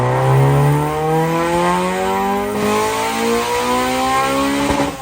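A Honda B18C5 VTEC engine swapped into an EG Civic revs hard and close, its pitch sweeping upward through repeated climbs with a raspy, loud intake and exhaust note and no talking.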